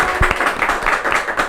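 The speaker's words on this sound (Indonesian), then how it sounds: "Tepuk tangan dong." A small group claps during an Indonesian talk show, with quick, uneven hand claps that are close and lively and last the whole short moment.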